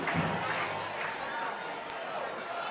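Home crowd murmuring in the stands at a 2019 high school football game between Canby and Lincoln, a steady distant wash of chatter and scattered calls with no sharp cheers.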